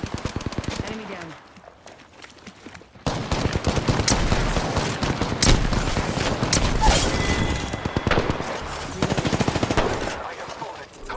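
Rapid automatic gunfire in the video game Apex Legends, dense bursts of loud, close shots running for most of the stretch after a quieter opening, with voice lines spoken over the shooting.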